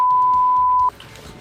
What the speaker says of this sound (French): Je vais devoir biper ce passage.